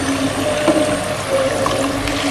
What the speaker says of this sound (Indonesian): Sekarang waktunya kita tiriskan.